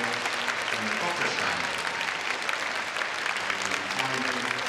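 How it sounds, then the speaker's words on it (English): At the Crufts 2008 dog show, a large arena crowd claps continuously for the gundog breeds as they leave the ring: a loud, dense roar of applause with voices mixed in. "please give a big round of applause for both categories from now leaving the arena"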